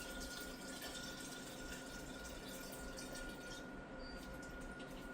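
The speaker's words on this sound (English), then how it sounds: "Going back to the sink to pour some." Pickle juice is poured into a kitchen sink, making a quiet, continuous trickling and splashing of liquid draining away, with no talking.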